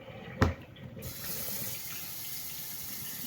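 Hot water running from a kitchen sink tap onto a leather bag: a short knock, then the faucet opens into a steady, even hiss of flowing water that continues to the end.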